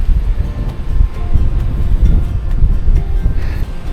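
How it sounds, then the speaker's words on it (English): Strong wind buffets the microphone on a solo bikepacking ride through the Lincolnshire Wolds, a loud continuous low rumble with gusty surges and no talk. "if it wasn't so bloody windy."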